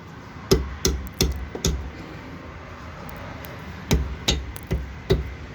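A car brake disc is tapped onto the hub with a hammer, sharp metallic knocks in two bursts of four to five evenly spaced strikes, close and loud with a quiet pause between them.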